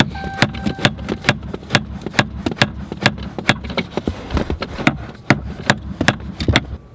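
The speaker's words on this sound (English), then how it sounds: "get you a little hammer, tap this side in a little bit" A small hammer taps a car steering part into place in a steady series of sharp metallic taps, roughly one every half second, close and crisp, continuing for several seconds with no talking.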